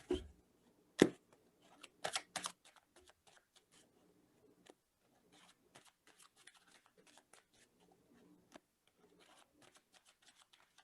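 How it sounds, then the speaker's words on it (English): Tarot cards are shuffled by hand, faint soft riffles and scattered light clicks, a few sharper snaps near the start, then quiet sparse rustling. "I'm starting the shuffle."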